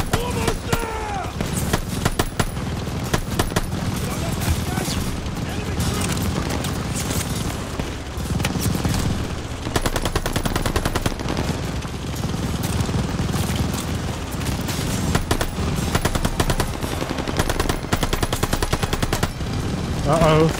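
Sustained machine gun fire from Call of Duty: Vanguard, with heavy stuttering bursts running nearly nonstop and occasional booms mixed in, loud and close under shouting voices.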